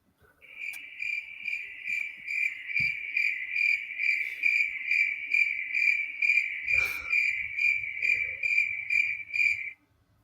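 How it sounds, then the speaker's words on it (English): Crickets chirp as a sound effect, with a steady, loud, fast pulsing trill running continuously for about nine seconds, briefly joined by a low thump midway. "we got the Crickets"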